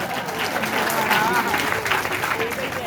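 Audience clapping during a Hindu religious discourse at a gaushala, steady crowd applause mixed with a voice speaking over it.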